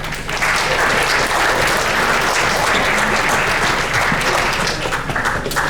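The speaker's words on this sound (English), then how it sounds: "Let's give a round of applause for our upper school." A school assembly audience applauds the upper school students, a loud, sustained burst of many hands clapping at once, filling the hall evenly from start to finish.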